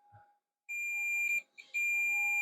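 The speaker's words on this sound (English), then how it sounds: "this one right here is going to beep with this one right in front of it" A continuity tester on an X Station ODE install beeps as a solder joint is checked, giving a short chirp and then two sustained high electronic tones split by a brief gap.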